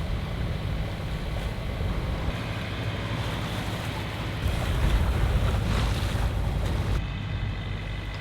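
A sailboat at sea on a slow England to Germany passage, rocking through waves with continuous rushing water, surf and wind buffeting the microphone, loud and close, no talking.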